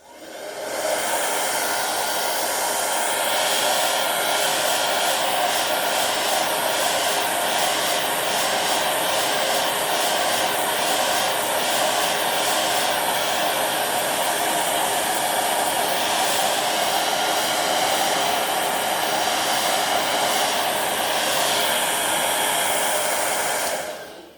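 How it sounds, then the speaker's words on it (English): A hair dryer blows steadily for over twenty seconds, a loud, constant whooshing roar close by with no pauses and no talking. "what if we take the hairdryer and just dry it a little bit"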